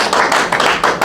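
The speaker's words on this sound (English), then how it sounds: "Now give a round of applause" A congregation at a Moorish Science Temple gathering claps in a dense, loud round of applause right up close, the clapping building in steady waves with no talking over it.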